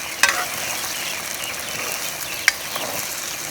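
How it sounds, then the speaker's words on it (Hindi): Okra (bhindi) fries in ghee in a pan, giving a constant close sizzle with two sharp crackling pops and faint stirring scrapes, with no voices. "अब भिंडी फ्राई हो चुकी है।"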